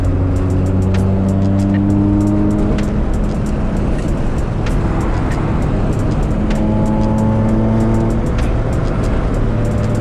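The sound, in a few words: RHD K20 Acura Integra driving on a bumpy road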